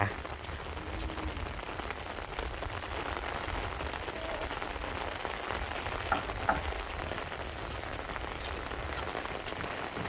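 Heavy midday rain pours over rice paddies in Thailand, a dense, continuous hiss of drops striking water and ground, with a few sharper close taps rising out of it.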